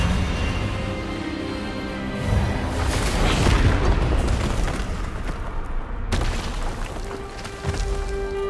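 Expelliarmus spell cast in the wizarding video game Hogwarts Legacy, a loud booming magical blast with a rumbling burst that swells midway, then cuts and resumes with lingering crackling energy.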